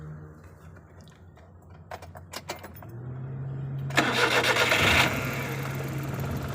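A car's starter cranks in a short burst of rhythmic pulses, then the engine catches and settles into a steady idle, heard close in a quiet setting with no voices.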